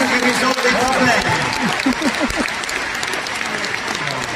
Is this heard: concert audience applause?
yes